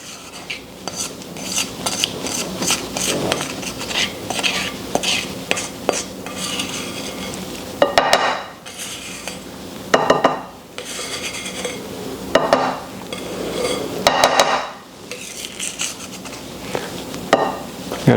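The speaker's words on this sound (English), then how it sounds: "let's finish moving this all around, stirring it up" A rubber spatula stirs coleslaw dressing in a bowl, giving repeated close scraping and swishing strokes with occasional louder knocks against the bowl, irregular in rhythm and without talk.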